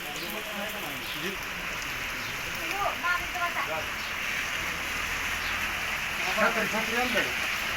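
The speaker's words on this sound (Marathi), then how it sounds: "इथूनच पाऊस येतोय" Steady rain hisses in the background while people talk over it in short bursts.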